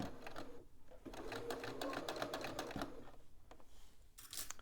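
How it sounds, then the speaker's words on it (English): A sewing machine runs steadily, stitching piping through fabric layers in a fast, even whirring rattle that pauses briefly near the end, heard close and fairly quiet. "we're going to just continue our piping stitches."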